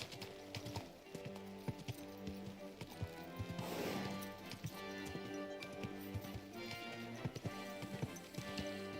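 Horse hooves clip-clopping at a walk in the Kingdom Come Deliverance 2 video game, a steady rhythm of sharp taps over a soft background ambience, with a brief rustling swell midway.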